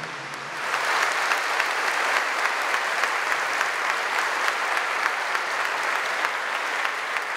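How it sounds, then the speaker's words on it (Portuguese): A church congregation applauding the Holy Gospel at an evening family prayer service, a dense, steady wash of many hands clapping that swells in after a brief pause and holds evenly. "Podemos aplaudir o Santo Evangelho."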